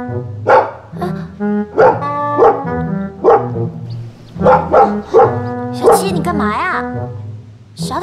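A small dog barks repeatedly in bursts of sharp yaps and yips, close and loud, between moments of people talking nearby.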